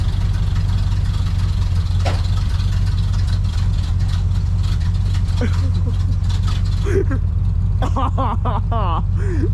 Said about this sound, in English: let's see if she'll fire up. Good old Chevy.